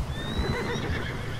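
A horse in Red Dead Redemption 2 gives a whinny in a short burst, heard over the game's continuous low rumbling ambience, with no talking.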